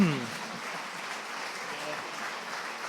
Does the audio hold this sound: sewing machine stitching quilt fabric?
no